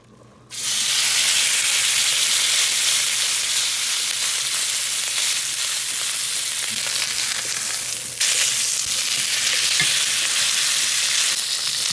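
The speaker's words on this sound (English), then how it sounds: "With a little bit of that bacon grease, we're gonna sear the steak." Ribeye steak sears in bacon grease in a hot pan, a loud, steady sizzle that bursts on suddenly and continues without pause, briefly dipping and rising again midway.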